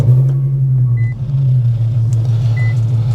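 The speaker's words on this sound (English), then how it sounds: "let's go ahead and get in the car, and I'm gonna just show you guys how this thing shifts and moves real quick" Infiniti Q50 with a swapped VR30 transmission driving, a steady low engine drone and road rumble heard from inside the cabin throughout.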